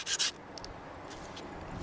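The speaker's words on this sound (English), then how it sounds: "you just get your sandpaper" Dry sandpaper rubbed across teak boat trim, a couple of loud bright scratchy strokes at the start followed by fainter, softer rubbing passes under steady background noise.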